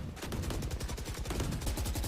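Rapid gunfire from a Valorant esports match plays as dense, continuous overlapping shots, steady and fairly quiet throughout, with no clear pauses.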